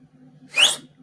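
A single short, shrill whistle blast, used to signal across a distance, stands out clearly against a quiet low hum.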